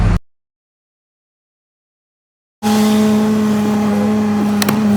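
A Chevrolet TrailBlazer with a newly replaced wheel bearing drives around the block. After a brief cutoff and silence, steady engine and road noise rises and holds, loud and close from inside the vehicle.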